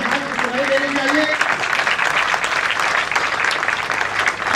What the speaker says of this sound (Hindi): हम आप सबको तालियों के गड़गड़ाहट के साथ यहाँ महजिद का स्वागत करेंगे।